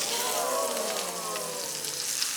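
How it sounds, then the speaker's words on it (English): Spatchcock chicken browning skin-side down in a hot pan gives a steady, dense crackle and hiss throughout, close and continuous with no pauses. "A lot of crackling, hissing, steaming."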